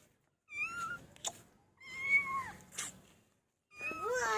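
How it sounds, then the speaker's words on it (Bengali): A cat meows three times indoors, drawn-out rising and falling calls spaced by short pauses, fairly close and clear with no talk over them. "বিড়ালটা তোমার ঘরে চলে আসছে, একটা বিড়াল চলে এসছে।"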